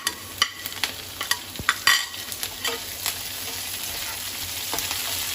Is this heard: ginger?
yes